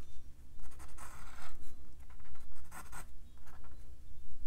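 Ink pen strokes shading shadows on paper during an ink and wash watercolor painting, a steady run of close, scratchy scribbling with brief pauses between bursts.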